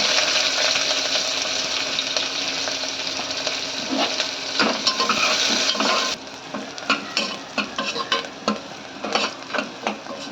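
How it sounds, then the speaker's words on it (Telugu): Chopped onion and green chillies frying in a pan with cumin, a steady close sizzle at first, then quieter with repeated scraping and stirring strokes. "పచ్చిమిర్చి ఇట్లా తెల్లగా వాలి ఉల్లిగడ్డ వేగింది చూడండి"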